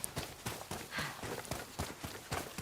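Horse hooves clip-clop at a steady gait in the video game Ghost of Yotei, with regular close, moderately loud hoofbeats running through the whole stretch and no voices.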